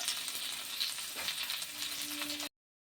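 Prawn curry wrapped in banana leaf roasting on a pan over low flame, a steady close sizzle with a brief stir or shift midway, ending abruptly.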